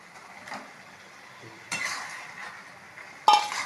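Eggs are stirred into a spiced curry masala in a pan, with three sharp spoon-on-metal scrapes and clinks over a faint low sizzle, close by and free of voices.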